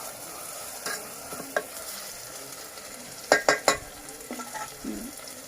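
Oysters and tomato fry in a pan for a Konkani-style home recipe, a soft steady sizzle with scattered stirring scrapes and a quick run of three sharp utensil clacks near the middle, close and without speech.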